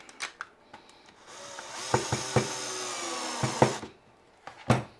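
Screws being driven into the plastic back of a jump lead clamp on a DIY car battery jump cable, a whirring power-driver run of about two seconds framed by sharp clicks and knocks of handling, close and fairly quiet.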